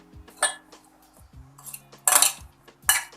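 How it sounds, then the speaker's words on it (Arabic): A utensil stirs seasoned chicken breast marinade with salt, ginger, olive oil and garlic in a bowl. The sharp clinks and scrapes are close and come in separate bursts, with quiet gaps between and no talk. "غادي نحركو جيدا"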